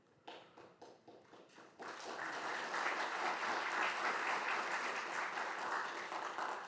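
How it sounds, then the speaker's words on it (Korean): A few scattered claps start up at a policy forum, then swell into steady, full audience applause that carries on without letup. "생각지도 않은 자리에서 박수가 나와서 잠시 당황했습니다."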